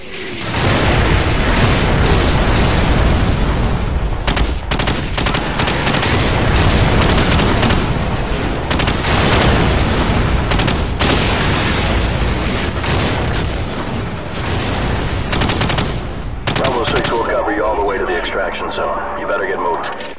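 An air strike in Call of Duty 4 Modern Warfare on Xbox 360 pounds away with continuous, loud, overlapping explosions and bursts of gunfire for the whole stretch, easing slightly toward the end.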